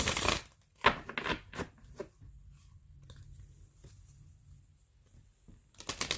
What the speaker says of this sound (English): Trying to get a good angle so you can see the shuffle here.